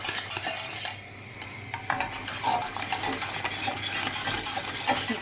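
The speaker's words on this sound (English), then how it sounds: "just keep on whisking, using those arm muscles to get out any lumps" A whisk beats a milk-thickened sauce to work out the lumps, giving quick scraping, clinking strokes against the pan that run almost continuously and up close.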